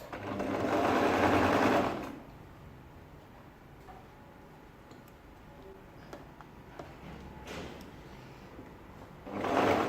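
Sewing machine stitching a sleeve seam at half an inch on a ladies' shirt dress, running in a loud, close whirring burst at the start and again at the end, with quiet handling noises in between.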